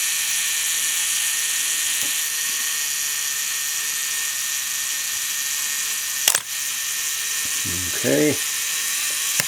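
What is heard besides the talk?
Minolta SRT-101 35mm film camera self-timer running its cycle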